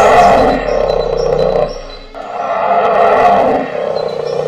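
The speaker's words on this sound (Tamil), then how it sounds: "தன் மொபைலில் கரடியின் உருமலை ஒலிக்க செய்தார்" A bear growl played back through a mobile phone speaker: two long, loud, rumbling growls separated by a short dip, with no talk over them.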